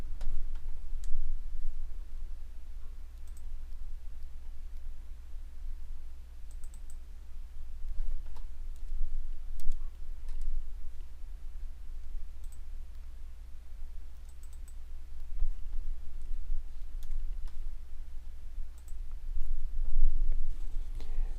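Sparse, faint computer mouse clicks sound while someone navigates a student tuition app, spaced irregularly over a steady low electrical hum.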